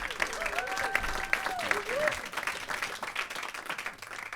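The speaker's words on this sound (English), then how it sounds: "So big round of applause for him." An audience at a jazz duo senior recital applauds steadily throughout. The clapping sounds full and sustained, and a voice sings or calls faintly underneath.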